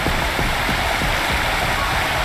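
A roaring waterfall in the video game Wuthering Waves, a loud, dense, continuous rush of falling water that fills the scene with no break.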